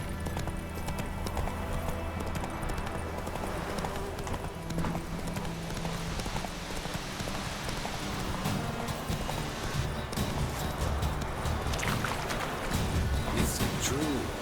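Roach the horse gallops steadily in The Witcher 3: Wild Hunt, a continuous rhythmic clip-clop of hooves carrying on throughout with ambient game sound beneath.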